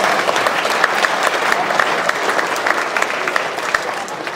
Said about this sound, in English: let's give Team Gryffindor one last round of applause.